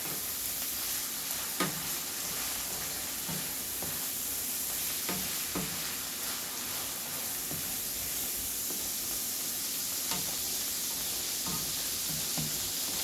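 Onions sizzle steadily in a hot pan while being cooked for a chopped cheese sandwich, with occasional scraping stirs from a utensil breaking the even hiss.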